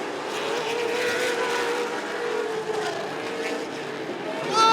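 Big 8 late model race cars roaring around a short track during a 188-lap feature, a steady distant engine drone with rising and falling passes and an announcer-like voice faintly under the noise.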